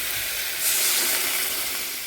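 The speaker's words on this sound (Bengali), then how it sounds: "এবার জল দিয়ে দেবো" Water poured into a hot frying pan of fried eggplant, before adding singhi catfish for curry, sets off a loud, steady hiss of sizzling steam lasting about two seconds, briefly rising in the middle.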